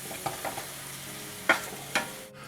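Chicken coated in taco sauce sizzling in a hot pan over medium-low heat, a steady soft frying hiss broken by a few quick scraping stir strokes, close up with no voices.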